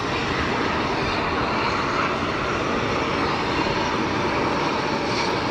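A Saudi airliner's engines spool up at Geneva Airport, a dense, even roar from a distance with no one speaking.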